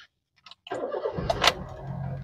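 A car engine is started with the key: a brief click, a short crank, then the engine catches and settles into a low steady idle, fairly close.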